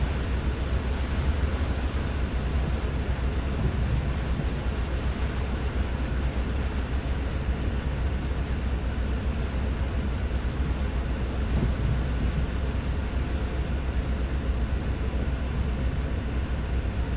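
Heavy rainstorm pouring down in Venice, Los Angeles, a dense, steady roar of rain with deep rumbling underneath, continuous and loud throughout with no voices.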